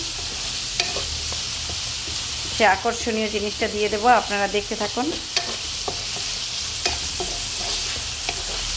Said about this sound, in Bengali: রসুন মরিচ তারপরে পেঁয়াজ সব ভেজে নিব